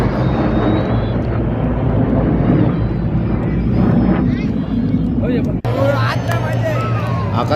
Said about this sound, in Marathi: एक जेट विमान अतिशय जवळून गेलेलं आहे.